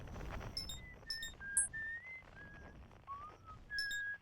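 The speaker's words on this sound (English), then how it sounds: "Yo, someone just whistling." Someone whistles in the video game Outer Wilds, a thin melodic tune of short gliding notes, faint and clear over a soft background.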